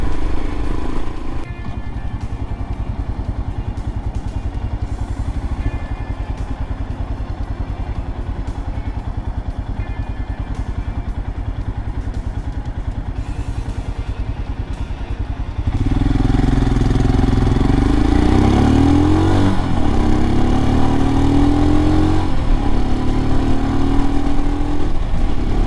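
Royal Enfield Himalayan with a swapped carburetor and upgraded suspension, heard while riding: a steady engine drone for about fifteen seconds, then a louder, fuller surge as the throttle opens, with rising rev sweeps.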